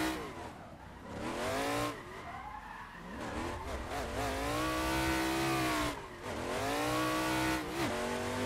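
A Ford Mustang RTR Formula Drift car skidding, its engine revving and rising and falling in pitch while the tires squeal loudly and continuously through sliding passes, heard close.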